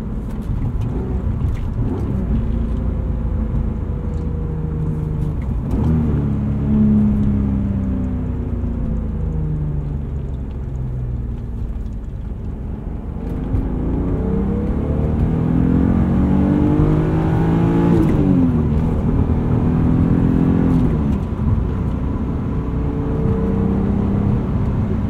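A 1999 E36 BMW M3 inline-six engine hums and revs, its pitch rising and falling as it accelerates through the gears, a steady, close mechanical drone with no talking.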